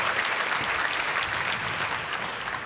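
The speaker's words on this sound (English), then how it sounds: "give applause for everyone who put this together" A crowd at a medical school Match Day claps steadily in a dense, even wash of applause, fairly close and sustained throughout, with no voices standing out.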